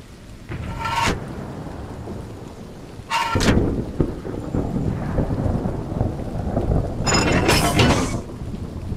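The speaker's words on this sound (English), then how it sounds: "Just what we need. Acid rain." Heavy rain falls steadily throughout as a staged stop-motion storm, with loud thunder cracks bursting near the start, around three seconds in, and again toward the end.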